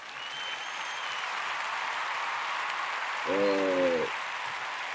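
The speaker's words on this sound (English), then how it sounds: "One last time, let's clap it up." A small group claps together, a soft, steady patter of hands that holds evenly, with a short tonal hum rising briefly near the end.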